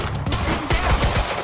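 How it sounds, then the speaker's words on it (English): Video game gunfire crackles in dense, rapid bursts of overlapping shots, loud and close throughout. "Target's armed! Opening fire!"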